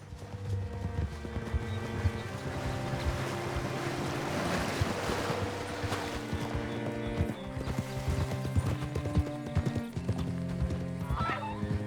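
Horse hooves clip-clop in Red Dead Redemption 2, a steady, close rhythm of hoofbeats that runs throughout over a soft background wash, with faint voices at times.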